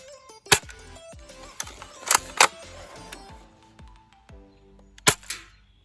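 Crossman M14 airsoft rifle firing, a few sharp snapping shots spaced irregularly with mechanical rattles between, close and fairly loud, no talking.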